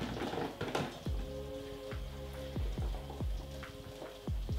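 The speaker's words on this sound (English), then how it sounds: "I'm going to let this simmer for a little bit" Mince filling for a keto, gluten-free cottage pie bubbles gently in a pan, giving soft steady crackle and pop with light patter, moderately close and fairly quiet, with no talk.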